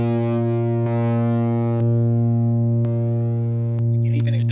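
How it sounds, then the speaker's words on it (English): A sustained, distorted guitar note with the highs cut so it sounds muffled, as if played behind a door, ringing steadily with faint periodic clicks. "Now it'll sound like it's coming through a door."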